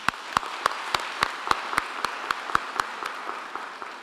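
Applause at a university graduation ceremony in Qwaqwa, honouring parents and guardians; a thin, sparse crowd clapping with a few sharp, evenly spaced loud claps standing out near the front, steady throughout.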